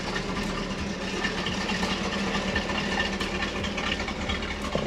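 A 1967 Chevrolet Camaro RS/SS runs steadily with a broad, even engine rumble that holds at a moderate level across the whole stretch, with no clear rise of revving and no voices.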